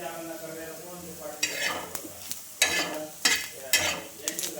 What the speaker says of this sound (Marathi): मी आता तव्यावर तेल टाकलं आहे आणि त्याच्यावर कांदा परतून घेणार आहे